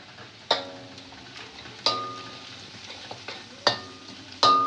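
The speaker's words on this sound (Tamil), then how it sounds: "ஒரு கிண்டு கிண்டிக்கிறேன்." Gram flour being stirred into palak in a frying pan, with a quiet steady sizzle and four sharp scrapes of a spoon against the pan at irregular intervals.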